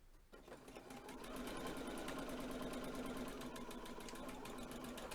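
A sewing machine runs steadily and close up, stitching fabric for a face covering towards the fold, a continuous rapid mechanical whir that holds for the whole stretch without talk.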